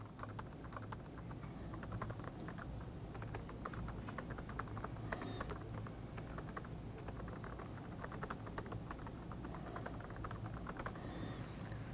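Continuous rapid typing on a computer keyboard while filling out form fields, dense clattering keystrokes close up and steady throughout, with no talking over it.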